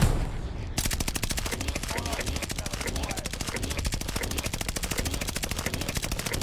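Sustained rapid automatic gunfire from Call of Duty Warzone, aimed at Godzilla and King Kong, loud and continuous for several seconds after a short quieter opening, with no clear talking over it.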